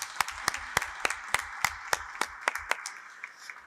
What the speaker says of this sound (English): you can give applause for that